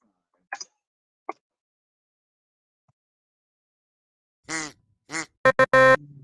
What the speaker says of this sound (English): These ducks are driving me insane.